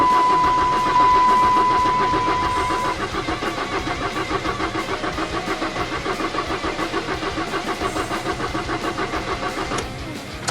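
A 2002 Saturn SL1 with a freshly rebuilt engine cranks steadily over and over, the starter's rapid rhythmic chugging loud and close without the engine catching, and no voices.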